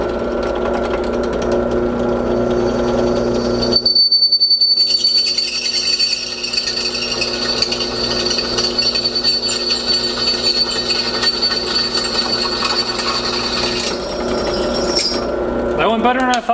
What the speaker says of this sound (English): See if we can kind of drill into it maybe.